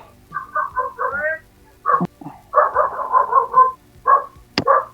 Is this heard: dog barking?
yes